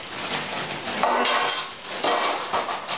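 Frozen broccoli pours and rattles into a metal pan, a loud continuous clatter of hard pieces striking and shifting against the metal.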